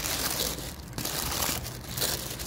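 Wrapping paper on a Justine 50 Years anniversary gift box crumples and crinkles steadily up close, a dense papery rustle with brief pauses between handfuls.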